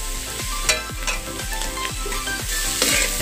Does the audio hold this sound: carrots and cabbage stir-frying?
yes